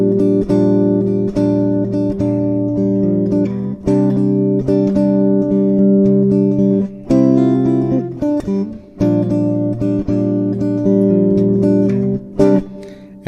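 Fingerstyle acoustic guitar plays the introduction to a song, a steady run of sustained plucked notes and chords, close and loud, with brief pauses and no talking.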